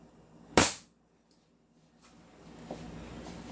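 Airsoft Para Ordnance 1911 gas pistol fired once during a chronograph test, a single sharp, close crack followed by quiet handling noise.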